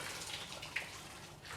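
Water poured into buckets on a Tudor-style farm, meant for cattle: a steady, fairly faint wash of pouring with a brief splash partway through, no talk.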